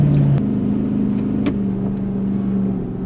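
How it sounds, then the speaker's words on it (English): A car travels along a rough off-road track toward a camping spot, its front end making an odd noise; a steady low engine drone holds throughout, with a few brief knocks and rattles over the top. "the front of my car's sounding a little bit funky"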